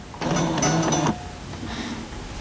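A sewing machine stitches a pressed-flowers quilt block in one short burst of rapid whirring, then stops, with faint handling noise after.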